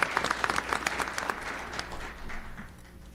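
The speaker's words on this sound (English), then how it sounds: "So when Linda comes in, maybe we can give her a little round of applause to Jim Green." Audience at a town deliberative session giving a short round of applause, a moderate patter of clapping that fades after a couple of seconds, heard from within the room.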